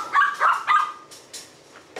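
An excited Belgian Malinois gives a quick burst of three or four sharp, close barks and yips, followed by fainter whining yelps as it settles down.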